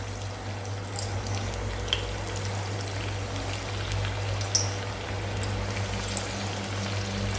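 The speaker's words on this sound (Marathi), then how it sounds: "कढईत तेल घेतलेलं आहे तर आता एक एक नगेट्स आपण व्यवस्थित सोडूया यात" Steady bubbling sizzle of nuggets deep-frying in hot oil in a kadhai, a dense crackling hiss with occasional pops, continuous and close, no talking.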